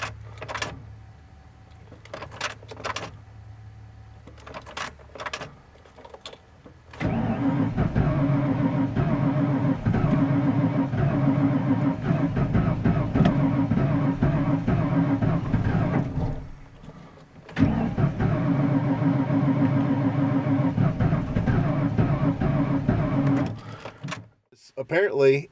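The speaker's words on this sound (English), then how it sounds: "Apparently, the truck's not going to start." Ford F-150 pickup engine cranking in the cold with a frozen fuel line, failing to start: a few light clicks and whirs, then a long, loud, continuous churning crank that stops briefly and resumes before cutting off.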